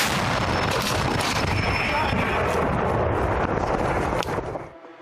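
A heavy, booming artillery gun blast roars outdoors at a front-line position, a thick wall of rumbling noise with wind buffeting the microphone, before dropping away at the end.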